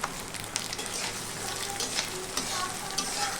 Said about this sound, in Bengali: এখানে নারকেল কুচিটা আমি ভেজে নেব একটু লাল লাল করে।